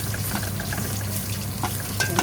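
Fish with curry powder, fish spices, turmeric and seasoning cubes sautéing in a pan, a steady close sizzle and frying crackle with a few clinks of stirring near the end.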